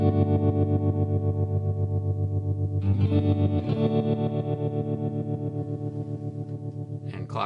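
Electric guitar chords run through a Catalinbread Semaphore tremolo pedal with the ramp knob fully counterclockwise, pulsing in a steady, sharp rhythmic volume chop that continues through several chord changes with no talking.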